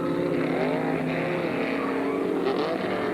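A Porsche race car, number 40, drones steadily around Gimli Motorsport Park at a 1982 Canadian road race, its engine note sustained and slightly wavering at a moderate distance.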